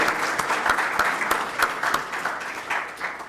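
An audience applauds at a panel on energy transition and nearshoring during an international economics week: brisk, steady clapping from a moderate-sized crowd for about three seconds, slowly thinning toward the end.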